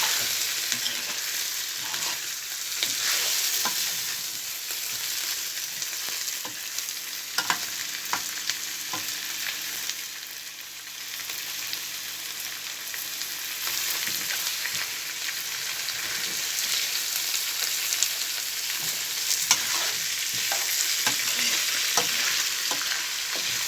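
Red and green peppers sautéing in a pan, a continuous bright hiss of frying with scattered utensil taps and scrapes from stirring, close and steady with no talk.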